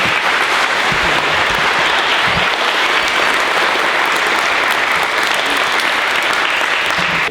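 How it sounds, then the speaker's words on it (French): A wedding audience applauds the speaker, a dense, steady wash of clapping from many hands that stays loud and even throughout, with no voices standing out. "Bravo, on l'applaudit."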